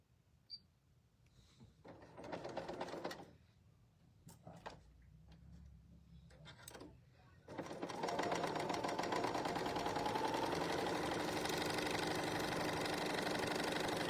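A sewing machine test-stitches on a quilt, first in a few short bursts separated by pauses, then running in a steady, close, rapid mechanical whir for several seconds.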